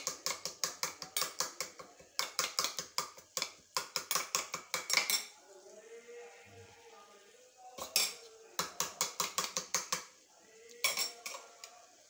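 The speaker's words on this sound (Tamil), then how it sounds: "கலக்கின முட்டை கலவையை இதில் ஊற்றிட்டு திரும்ப நல்லா கிளறணும்" A metal spoon stirs beaten egg into sheep brain in a pan, with rapid bursts of scraping clinks against the pan, separated by short quiet gaps and soft sizzling, close up with no speech.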